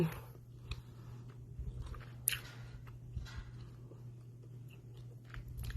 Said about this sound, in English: This gum is good. I gotta chew it.